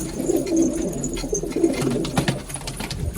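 A loft of pigeons cooing continuously, overlapping low throaty coos from several birds close by, with faint flutters and chirps in the background and no talking.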